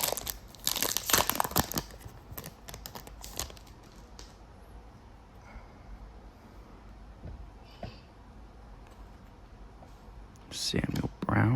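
Foil wrapper of a 2025 NFL football trading card pack crinkles and tears open up close, with loud rustling bursts at the start and again near the end, quieter handling between and speech around it.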